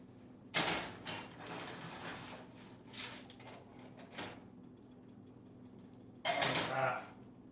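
Metal spatula scraping eggs in a pan while cooking a salmon brunch with eggs and potatoes, heard as a few short, sharp scraping bursts with quieter gaps between them against a low kitchen hum.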